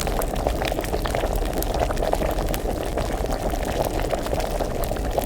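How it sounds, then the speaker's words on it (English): A potion bubbles during alchemy in the video game Kingdom Come Deliverance, a steady rolling boil of dense popping and gurgling that carries on evenly without talk. "Keep it boiling."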